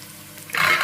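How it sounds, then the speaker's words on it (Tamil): Chopped onions start sizzling in a hot pan in a home kitchen after a moment of quiet, and the steady frying hiss stays loud and close until the end. "இங்கே வெங்காயம் வதங்கி விட்டது"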